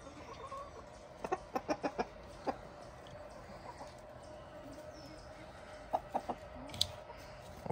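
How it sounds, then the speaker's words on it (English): A rooster gives a quick series of soft clucks, then a couple more a few seconds later, faint against a quiet outdoor background. "What a beautiful rooster you are."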